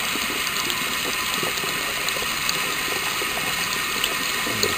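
Water runs steadily from a tap at half flow in a constant, hissing rush, close by and unbroken, with faint splashes in a sink, on a boiler-fed hot water supply.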